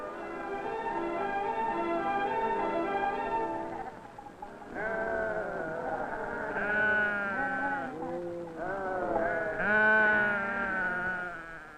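Pack goats bleating on a mountain trail, several long wavering cries overlapping and following one another close by, loud and clear against a quiet background.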